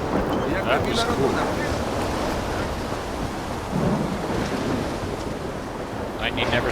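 A thunderstorm rumbles in S.T.A.L.K.E.R. 2, with a steady roar of rain and wind and deep rolls of thunder swelling partway through, loud and continuous.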